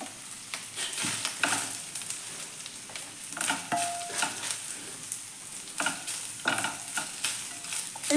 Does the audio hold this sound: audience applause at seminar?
no